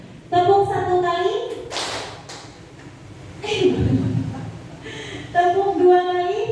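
A class of adults in an Indonesian training session claps once together on cue, a single short burst of group clapping set between stretches of a woman's spoken instructions.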